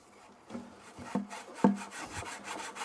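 A wooden drawer is rubbed against its hand-cut timber runners, giving short dry scraping strokes at close range, several rasping passes in an uneven rhythm with no talking.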